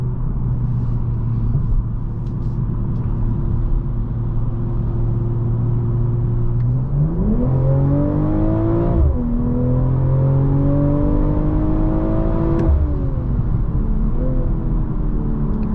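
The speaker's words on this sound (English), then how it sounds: "You can feel the car squat at the back end in order to accelerate." A 2023 BMW M440i Coupe engine holds a steady hum, then revs up hard through rising gear pulls, with a shift and another climb near the end, loud and close with no talk.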